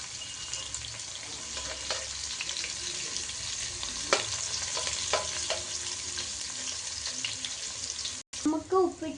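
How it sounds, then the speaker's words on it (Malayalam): Mushrooms frying and being stirred in a pan, a steady close sizzle with scattered scraping clicks from the utensil, followed near the end by a short break and some trickling, clinking kitchen noise. "ഇനി നമുക്ക് ഇച്ചിരി ഇളക്കി കൊടുക്കാം."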